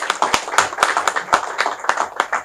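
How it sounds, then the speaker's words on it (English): Scattered hand claps from an audience at a formal address, irregular and moderately close, rising into brief bursts of clapping rather than full sustained applause. "I think you should join me in clapping for him for that"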